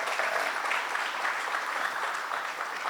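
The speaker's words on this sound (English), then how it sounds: "please give a huge round of applause to this panel." Sustained audience applause for a panel at a higher-education event, a steady wash of many hands clapping without pause, fairly loud and close, with no speech over it.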